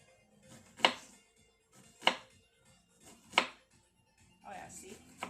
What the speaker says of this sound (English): I am pretty much done chopping onions